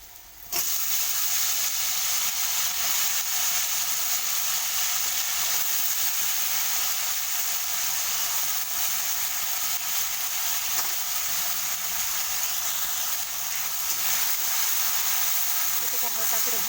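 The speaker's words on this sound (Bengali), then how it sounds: "এটা হালকা করে ভাজা করে নেব" Taro stems and potatoes fry in a pan with salt and turmeric, giving a loud, steady, close sizzle that hisses continuously after a brief quiet start.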